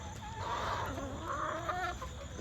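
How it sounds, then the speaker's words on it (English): A neighbour's rooster crows in the morning along a rural road, a fairly close, drawn-out call rising and falling over steady background noise, with other fowl sounds around it. "It crows day and night."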